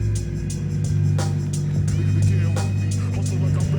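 A bumper car fitted with a swapped-in motor runs steadily at idle, a continuous low droning hum with light clicks and knocks over it, close by.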